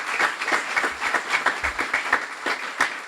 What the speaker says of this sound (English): And a round of applause again.